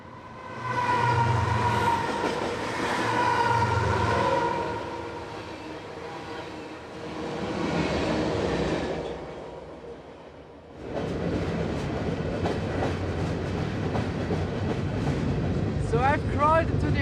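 BNSF freight train rolling on the BNSF line toward the Northtown yard, recorded from aboard: a loud, steady rumble and rattle of cars with shifting rail noise and clatter, continuous throughout, louder after a brief lull.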